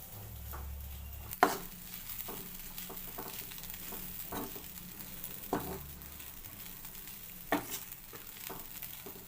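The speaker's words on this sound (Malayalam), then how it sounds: "അതും ഇതിൻ്റെ അകത്തേക്ക് ഇട്ട് കൊടുത്തു നന്നായി മിക്സ് ചെയ്യാം" Puttu upma mixture being stirred in a pan, a spoon scraping and clinking against the metal in a few distinct strokes over a soft background sizzle, close and fairly quiet.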